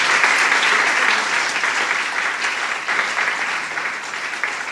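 Loud sustained applause from a large crowd at a political speech honouring women, a dense continuous roar of clapping that holds steady and tapers slightly toward the end.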